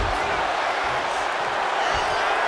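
A wrestling arena crowd in the video game WWE 2K26 keeps up a dense, continuous roar of cheering and noise throughout, loud and unbroken.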